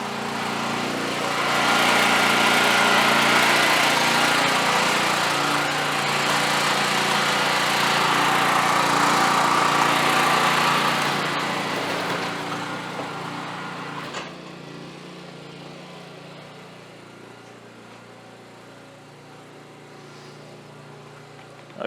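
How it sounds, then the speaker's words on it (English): A Generac 5500-watt portable gasoline generator runs with a steady droning hum, loud at first and then quieter after a sudden drop, continuing alone without talk. "I don't know if you guys can hear the generator very well"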